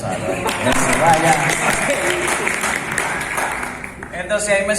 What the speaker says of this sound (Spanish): un aplauso para Gonzalo